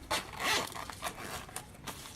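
A zipper along the top of a plain green anime pouch is pulled open in several short, raspy tugs, close and fairly loud.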